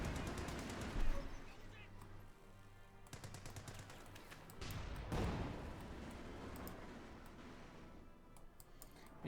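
Machine gun fire in Company of Heroes 2, a World War II strategy game battle between German and British forces, with bursts of rapid gunfire and scattered shots over steady battle noise, under a commentator's voice.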